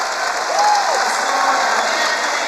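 A crowd at a high school all-star wrestling match applauds and cheers loudly, a dense steady wash of clapping filling the whole stretch.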